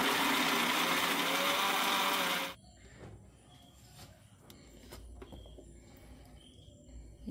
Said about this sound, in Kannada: ಎಲ್ಲವನ್ನು ಸಣ್ಣದಾಗಿ ರುಬ್ಕೊಳ್ಬೇಕು.